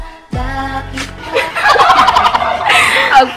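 A turkey gobbles loudly and close, a rapid warbling burst that starts abruptly and carries on to the end.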